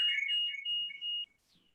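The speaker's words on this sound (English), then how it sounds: "I hear like a weird beeping thing" A shrill electronic tone from a kitchen appliance warbles and then holds a steady high beep before cutting off abruptly, leaving near silence.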